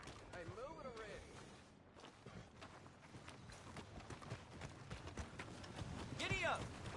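Horse hooves clip-clop steadily in the Red Dead video game, a running rhythmic beat beneath frequent spoken dialogue, with other game sounds mixed in.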